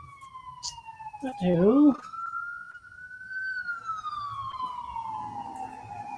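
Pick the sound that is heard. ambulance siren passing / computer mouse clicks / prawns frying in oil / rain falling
ambulance siren passing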